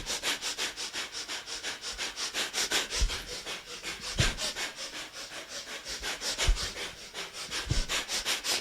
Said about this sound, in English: With a breath of fire, we're going to be rolling back and up to sitting.